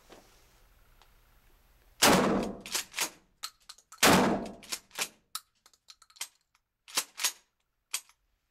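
A Mossberg 500 tactical shotgun fires two loud, sharp blasts about two seconds apart, each followed by clicking and clacking of the action being worked.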